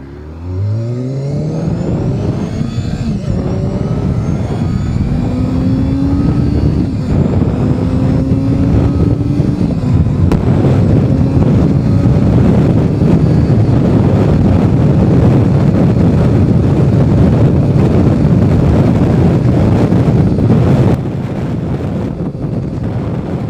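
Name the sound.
restored 90s Honda race-style motorcycle being ridden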